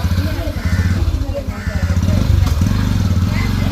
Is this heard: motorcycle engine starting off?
yes